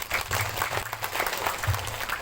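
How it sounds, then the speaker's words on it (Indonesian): Dense, steady clapping from a crowd, continuous and fairly close throughout the short stretch. "Tepuk tangan untuk beliau"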